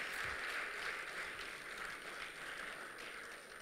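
An audience at a speech launch event claps in sustained, faint applause, a soft distant patter of many hands that fades slightly toward the end.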